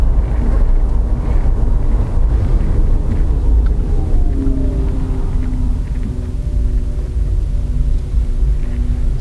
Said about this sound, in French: c'est un bruit artificiel qui a été ajouté pour qu'on se rende compte qu'on est en train de rouler